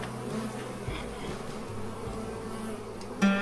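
Honey bees buzz steadily around beehives at night after returning home during a move of hundreds of hives, a dense continuous drone close by with no talking.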